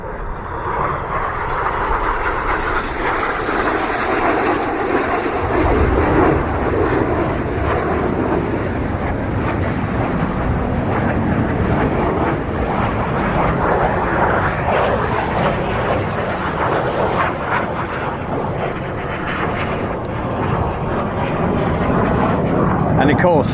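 Aerobatic display jets at an air show at Odiham, a broad steady roar building and sustained as they fly past, with a commentator talking over it.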